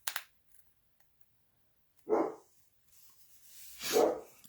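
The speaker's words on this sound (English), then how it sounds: "You can probably hear my dog in the background." A dog barks in the background of a home crafting session, two separate muffled bark bursts a couple of seconds apart, fairly faint and distant.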